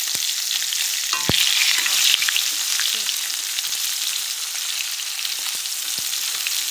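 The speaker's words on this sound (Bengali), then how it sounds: "এই দেখো হয়ে গেল মাছ ভাজাটা উঠিয়ে নিই" A large, fatty fish fries in hot oil for a Bengali fish thali lunch, giving a loud, steady, close sizzle throughout, with a few brief utensil taps.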